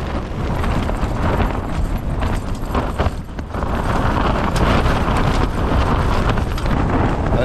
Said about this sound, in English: Been relentless, the wind. It's just coming in big massive gusts.